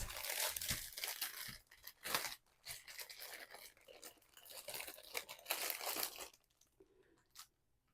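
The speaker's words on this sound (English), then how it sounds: "The crinkly plastic is part of diamond painting." Crinkly plastic packaging of a diamond painting kit, handled up close in bursts of crackling, crumpling and tearing, loudest early and fading toward the end, with no speech.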